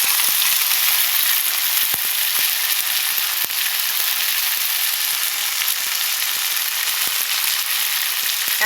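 Thin drumstick pieces go into a pan of frying potatoes, raising a loud, dense, continuous sizzle up close, dotted with small crackling pops.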